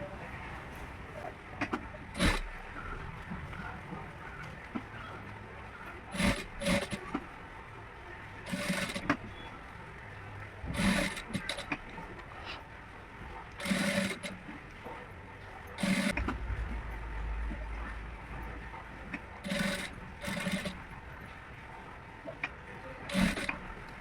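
A sewing machine stitching the lining of an embroidered blouse runs in short bursts of rattling, mechanical whirring, separated by pauses with handling and rustling of fabric.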